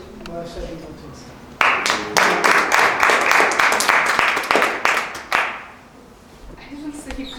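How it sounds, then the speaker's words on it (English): An audience at a club meeting claps steadily for several seconds after a speaker is introduced, a dense burst of many hands that swells and then fades, with voices briefly before and after. "I didn't say you could stop clapping."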